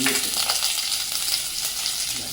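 Garlic, ginger and green chili sauté in hot oil in a pan, giving a steady, close sizzle with faint stirring scrapes and no talking.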